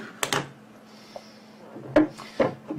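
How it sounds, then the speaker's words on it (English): A washing machine motor rotor is fitted onto its stator, giving a few sharp, close knocks and scraping contacts separated by quiet gaps, as if the metal parts snap together under magnetic pull. "I'm now going to assemble this rotor onto the stator and do a simple demonstration here."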